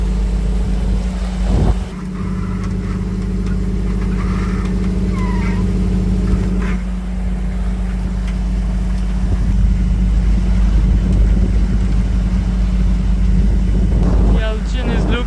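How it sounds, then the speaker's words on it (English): A sailboat motoring at sea under engine power, a steady low engine rumble with wind and water noise throughout, with brief voices near the end. "We're making a hell of a speed under engine power because of the currents."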